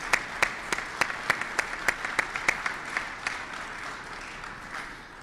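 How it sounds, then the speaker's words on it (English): Audience applause at a Kentucky and Ohio government announcement on the Brent Spence Bridge plan, greeting a senator: steady crowd clapping with a run of sharper individual claps on top, fading out toward the end, with no talking over it. "let's give the senator a big round of applause"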